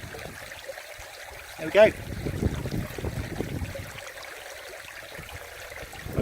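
Water squeezed through a filter into a clean water bottle at a wild camp on Dartmoor: a soft, steady trickle and splash, close by, with a brief spoken remark over it.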